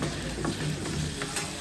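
Fish fries on a hot tawa at a street-food fish restaurant, a dense, continuous sizzle with soft stirring scrapes, close and steady, with no talk.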